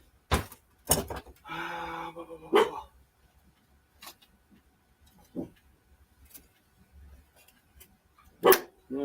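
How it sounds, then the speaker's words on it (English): A dog woofs in several separate, fairly faint barks spaced apart, with a drawn-out vocal sound between the early barks, against a quiet indoor background. "You're doing a lot of woofing over there."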